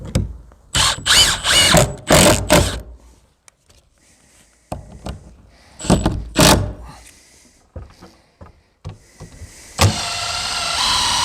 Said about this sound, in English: Now I'm going to run the screw gun